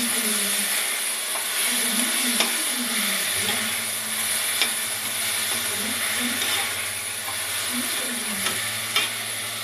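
Sautéed tomato and onion for a turkey gravy get stirred in a pan, a continuous loud sizzle with soft scraping strokes recurring every second or so.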